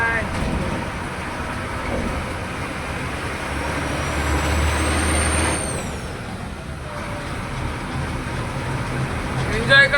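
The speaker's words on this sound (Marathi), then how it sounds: "पावसात गाडी चालवायची मजाच वेगळी." A car with a broken joint bearing drives through heavy rain, giving a dense continuous roar of water and road noise, with a brief rising whine midway and people talking inside.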